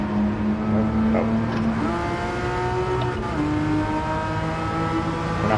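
A Porsche Cayman engine in Gran Turismo 7 drops into the wrong gear, its steady tone shifting abruptly in pitch, loud and close, with no talking.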